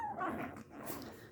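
A Shih Tzu puppy at a vet visit gives a brief whimper with soft yips, close and fairly faint, over about a second and a half.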